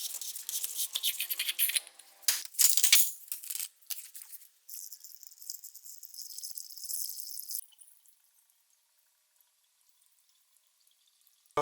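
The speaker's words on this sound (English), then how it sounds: "now let's put in antifreeze." Antifreeze is poured into the cooling system of a BMW G30, giving a close, uneven splashing and trickling with a few rattles. The flow stops near the end, leaving silence.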